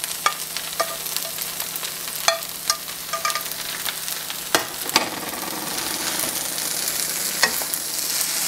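Chicken and shrimp stir-frying for pad thai in a hot pan, a steady close sizzle with scattered scraping clicks of a utensil stirring, no voices.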